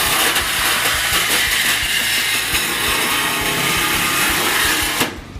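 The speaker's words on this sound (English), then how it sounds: "So put the drill bit in fast." A power drill bores holes to fit a snorkel onto an RC car, giving a loud, continuous grinding whir for about five seconds before it cuts off abruptly.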